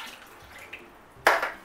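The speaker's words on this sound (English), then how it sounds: "I'm just going to fill up the cans about halfway and add some water to the mixture as well" Water poured into a tomato mixture in a pan while cooking a vegetarian shepherd's pie, a faint trickle followed by a short, louder splash near the end, close and brief.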